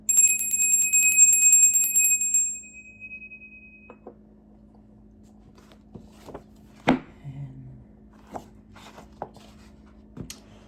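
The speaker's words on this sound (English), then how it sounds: "I'm about to ring the bell to clear the energy on the book." A single bell rung once, a bright ringing strike that sustains and fades over about two seconds, followed by quiet room noise with a few faint taps and rustles.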